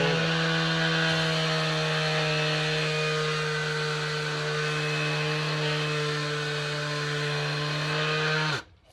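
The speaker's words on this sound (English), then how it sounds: "then I can use two-handed operation of my orbital sander" A power tool, an orbital sander working on a wooden step stool clamped to the bench, hums steadily at one loud, constant pitch for about eight seconds and then stops abruptly.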